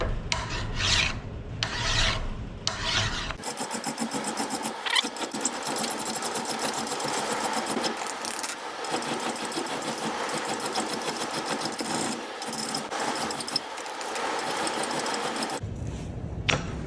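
Steady, rough back-and-forth rasping of a hand file across the faces of a very old, pitted sledge hammer head, loud and close with continuous rhythmic strokes and a brief pause near the start.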